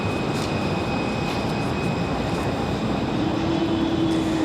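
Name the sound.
Air France airliner engines running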